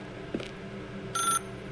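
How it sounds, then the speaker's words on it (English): A telephone being picked up in the video game The Stanley Parable: a soft click, then a short, bright electronic ring-like tone over a low steady hum. "As Stanley picked up the phone"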